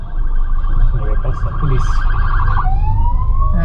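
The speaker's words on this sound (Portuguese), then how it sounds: "Tô ouvindo uma sirene, eu não sei se teve algum acidente aí pra frente" A police car siren on a highway wails in rising and falling sweeps over steady road noise, then glides into a long, swooping tone as it passes, while a voice speaks briefly.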